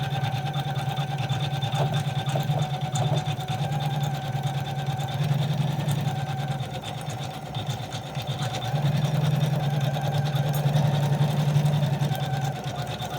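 An embroidery machine stitches an outline on flex material, a steady close mechanical whirr with fast rapid needle chatter running continuously, its pitch and loudness shifting slightly throughout.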